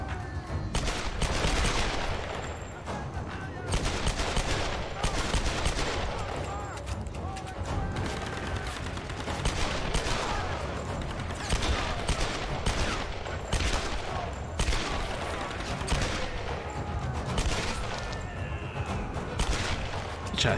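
Gunshots in Tomb Raider (2013): a nearly continuous barrage of loud shots, bursts and booms fills about twenty seconds, with a few short calls mixed into the din.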